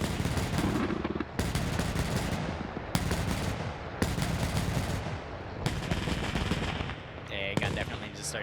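Bursts of loud gunfire and heavy weapons fire in a World War combat video game, repeated sharp volleys and rapid machine-gun rattles separated by brief pauses, with distant explosions mixed in.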